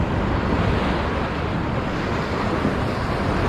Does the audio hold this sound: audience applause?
no